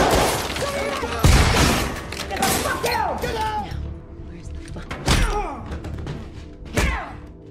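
An action-film shootout: sharp gunshots and heavy thuds burst out in irregular volleys with shattering impacts, under tense music and voices.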